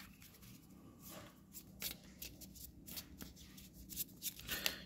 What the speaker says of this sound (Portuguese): Você embaralha as cartas